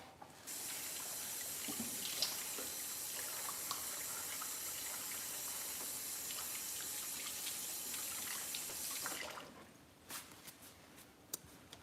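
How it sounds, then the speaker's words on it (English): Running tap water pours steadily into a sink while hands are washed, a faint continuous hiss that stops abruptly near the end, followed by a few soft drips and clicks. "let me wash my hands real quick."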